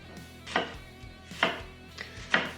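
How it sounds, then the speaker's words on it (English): A knife cuts an onion into small strands for pulled pork tacos, landing in three sharp, close chops against a board at a slow, even rhythm, with quiet gaps between strokes. "Just make little strands like that through your onion."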